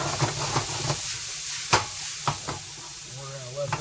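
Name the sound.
diced red pepper sauteing in butter in a pan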